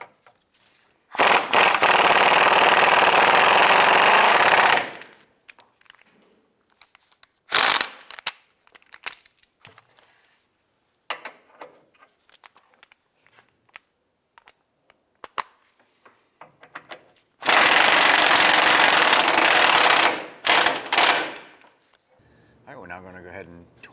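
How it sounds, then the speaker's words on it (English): A power tool snugging down lower control arm bolts on a 2005-2012 Honda Civic, two loud sustained bursts of several seconds each, separated by quieter clatter and handling noise. "Now we're going to go ahead and snug down these bolts and then we'll torque those."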